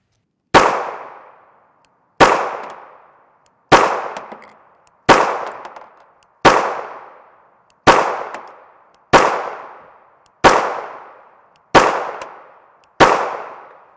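A Gen 4 Glock 19 MLS pistol fires 9x19mm 147-grain FMJ rounds: ten sharp, loud bangs at an even pace about a second and a half apart, each with a short decaying ring.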